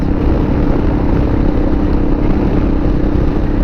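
A Kawasaki KLR motorcycle cruises at about 70 miles an hour on a highway, producing a loud, constant engine drone mixed with heavy wind rush that holds steady throughout.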